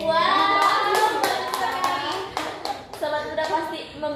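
A crowd at a youth talk-show event applauds with dense, steady clapping for about four seconds, loud and close, thinning into scattered claps near the end. A few faint voices sit under it.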